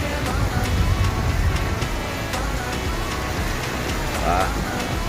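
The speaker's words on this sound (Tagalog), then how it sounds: "Ulan." Steady rain hiss fills the whole stretch in Sampaloc, Lucban, Quezon, with occasional louder patter and a brief rumble near the end.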